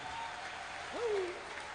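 A church congregation claps in praise of Jesus, giving a soft, steady wash of applause from a crowd at some distance, with a brief tonal sound rising in the middle.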